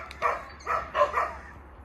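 Several sharp barks from a working West Siberian Laika male, four clear bursts spaced about half a second apart, fairly close and loud with no talk over them.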